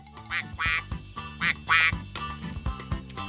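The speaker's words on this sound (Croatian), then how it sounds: "Zašto tvoj mobitel kvače?" Recorded duck quacking played back from a mobile phone, a run of loud, nasal quacks in quick bursts with short gaps, sounding close and slightly tinny, alone without any talk.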